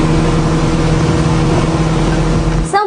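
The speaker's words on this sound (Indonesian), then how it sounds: "Deru suara mesin speedboat terdengar cukup kencang." A speedboat engine roars loud and close with a steady, droning hum and strong low rumble. It holds constant throughout, with a brief change in pitch at the very end.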